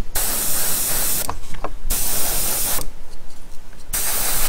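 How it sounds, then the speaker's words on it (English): An airbrush sprays paint onto a miniature model in steady bursts of loud, close hissing. Short pauses between the bursts let faint handling noises through. "So I'm spraying all the model relatively evenly."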